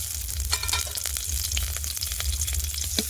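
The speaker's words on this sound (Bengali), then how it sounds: "এবার তার মধ্যে একটু দিয়ে দেবো তেল ও কুচিয়ে রাখা পেঁয়াজ" Chopped onions fry in oil in a pan where pumpkin was just fried, giving a steady close crackling sizzle with small pops and bursts of stirring.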